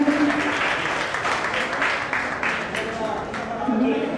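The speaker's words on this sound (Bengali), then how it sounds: "আপনারা করতালি দিয়ে অভিনন্দন জানান" Audience applause at a college alumni felicitation ceremony, steady dense clapping filling the hall for the full length, with a voice talking faintly underneath near the start and end.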